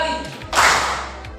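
One sharp hand clap rings out and fades with a short echo, with a low background murmur around it.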